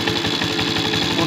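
An old motorcycle engine idles with a steady, fast knocking pulse, loud and close, with no voices over it.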